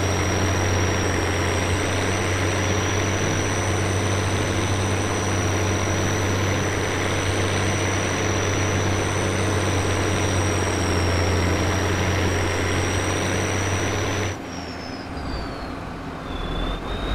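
A tractor engine runs steadily in the Farming Simulator 22 game on a farm map, a loud continuous low drone with a constant higher whine, then cutting off abruptly near the end.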